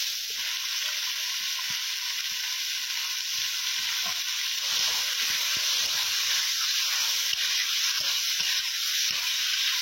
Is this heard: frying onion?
yes